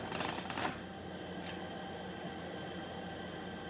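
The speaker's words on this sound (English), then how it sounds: "let's try to riffle neatly" A deck of playing cards being riffle shuffled during a simulated blackjack game, a short loud burst of fluttering card noise in the first moment, then quieter handling and low room hum.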